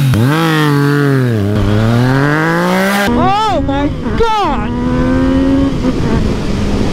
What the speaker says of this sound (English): I did put the full Akrapovich exhaust on there.